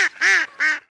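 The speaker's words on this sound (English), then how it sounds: "Compare this hen mallard call" A hen mallard duck giving three loud, raspy quacks in quick succession, close up and clear with no other sound.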